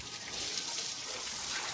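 Water splashing and pouring steadily over buffaloes bathing outdoors, a continuous close gush with no voices.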